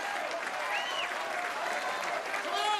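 A Norwegian crowd at a strongman event claps and cheers steadily after a heavy lift, the applause dense and continuous throughout, with a commentator's voice partly audible over it.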